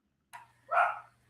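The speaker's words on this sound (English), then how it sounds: "Aside from the dog barking" A pet dog at home gives a short yelp followed by a fuller single bark, fairly close and alone over a faint low hum.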